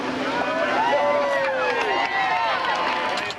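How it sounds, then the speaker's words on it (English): A crowd cheering for ice at a Red Cross handout after Hurricane Fran in 1996: loud, sustained outdoor cheers, whoops and shouting voices overlapping in a continuous roar. "These folks are cheering for ice"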